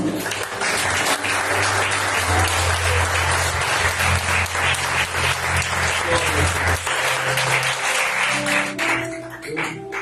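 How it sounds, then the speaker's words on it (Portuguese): A church congregation breaks into sustained applause, a loud, dense mass of clapping with shouts and a low tone underneath, continuing for the whole stretch before thinning slightly at the end. "Vamos todos aplaudir Jesus."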